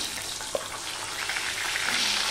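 Pieces of taro root (gathi kochu) fry in hot oil, giving a steady, fairly quiet bubbling sizzle with one small pop near the start.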